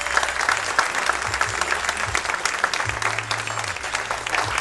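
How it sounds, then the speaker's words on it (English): An audience at a Friends of the Port event applauds in honor of Primus Robinson: full, steady clapping from many people, with low sustained tones humming faintly underneath. "Give him a real nice round of applause"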